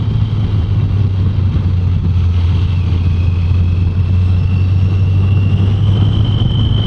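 An older motorbike engine runs steadily and loudly up close, with a deep drone holding through the whole stretch and no clear rise to a high rev, ridden on narrow two-way roads in Holland.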